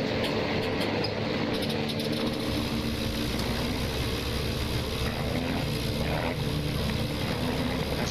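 Continuous droning biplane engine hum warming up in the video game Wings Over Flanders Fields, a rough, steady rumble like a propeller plane idling, loud and unchanging throughout.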